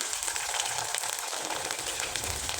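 Flour pitha cakes frying in hot oil give a steady, dense sizzle and crackle that stays even and close throughout, with no voices.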